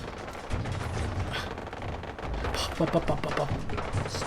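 Automated turrets firing at super mutants in Fallout 4, a series of gunfire bursts and thumping impacts over a busy combat background.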